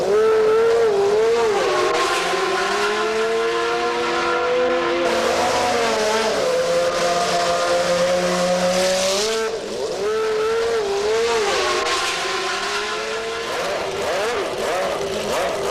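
Williams Renault FW15C Formula 1 cars at Estoril, a loud close engine wail climbing and dropping through gear changes as the cars pass, with no voices.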